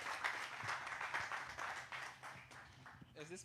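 Audience applause greets a speaker arriving at an event, a steady spread of clapping that carries through almost to the end before fading as a voice begins.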